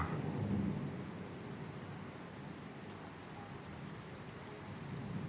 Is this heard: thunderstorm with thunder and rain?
yes